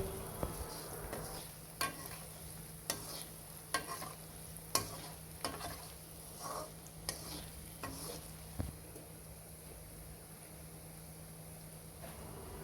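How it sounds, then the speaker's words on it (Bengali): A faint, steady sizzle of turmeric and ground spices frying in a pan for a raw papaya dish, broken by regular soft scraping stirs every second or so, with a constant low hum underneath and no voices. "দিয়ে হলুদটা ভালোভাবে কিছুক্ষণ ভেজে নিতে হবে"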